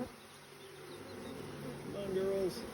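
Honey bees buzz around an opened hive during a hive split, a close, continuous droning hum with a louder individual bee passing near the end.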